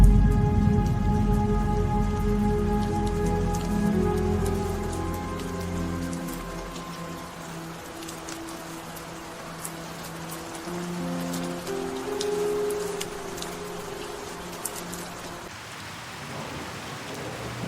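Steady rain pours down in a dense, continuous hiss, with low rumbles of thunder rolling underneath through the whole stretch, no voices present.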